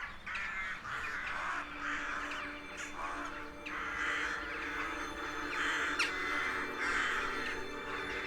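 A rook colony nests in trees in a snowy Anatolian setting, with many raucous caws overlapping steadily at mid distance and a busy chorus continuing throughout.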